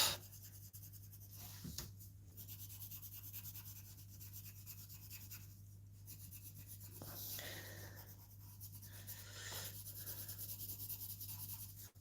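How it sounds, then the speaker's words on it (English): A purple coloured pencil shades across paper in close, continuous scratchy strokes, quiet and steady with brief pauses between passes, and nobody speaks. "Because the pencil I'm using now is actually a purple one."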